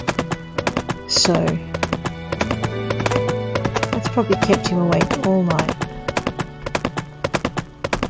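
A horse's hooves clip-clop in rapid, regular steps in the video game Pumpkin Days, with a brief whinny early on and a background music tone beneath, while someone talks over the sound.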